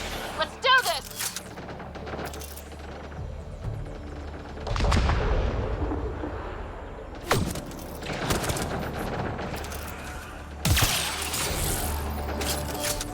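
Gunfire and heavy weapon blasts in the video game Mass Effect: Andromeda, with loud bursts at intervals over a steady rumbling combat backdrop.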